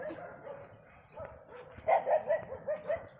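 Several quick, distant dog barks in a short burst near the end, following a stretch of low background noise, in rural farmland in Maglinte, Zamboanguita, Negros Oriental.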